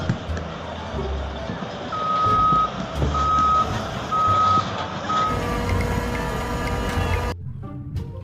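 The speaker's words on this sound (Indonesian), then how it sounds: "kalau yang ini ada truk pasir teman-teman" A sand truck backing up gives four evenly spaced reversing beeps over a rough, rumbling diesel idle, close and moderately loud, before the engine noise drops away sharply near the end.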